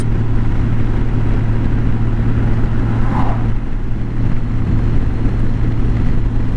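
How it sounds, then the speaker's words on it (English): Steady engine drone and wind rush from a motorcycle cruising on a warm morning ride through low-lying Texas countryside, a continuous close, loud rumble with a strong low hum throughout and no talking. "These morning motorcycle rides are certainly salve for the soul."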